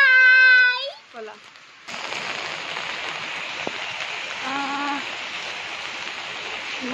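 Rain falls steadily as a soft continuous hiss after a brief opening meow, with a voice speaking quietly partway through.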